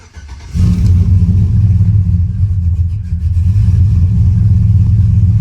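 A 1999–2007 Chevrolet Silverado pickup with about 171,000 miles starts off and its engine revs steadily while driving, a loud, close, continuous low rumble that holds strong throughout.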